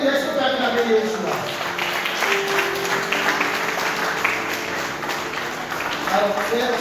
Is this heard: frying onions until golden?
no